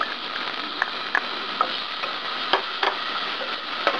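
Garlic and ginger sautéing in a pan, a soft continuous sizzle with a few light utensil taps against the pan.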